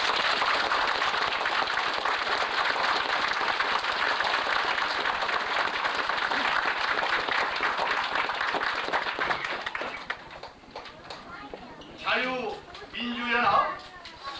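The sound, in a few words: applause at a party meeting, unanimous approval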